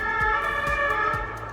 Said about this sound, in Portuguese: Perdão, ambulância.